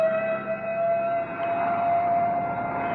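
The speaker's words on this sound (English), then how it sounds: "The ambulance and the crash wagon are going out." An ambulance siren wails steadily in an old-time radio drama set among New York City cabs, a loud sustained tone holding at one pitch with a slight swell midway, heard alone with no talk over it.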